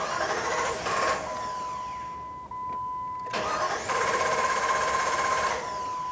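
A 1999-2004 Jeep Grand Cherokee being cranked during fuel pump replacement, a steady mechanical whirring drone that briefly drops out midway and then resumes, loud and close with no talking.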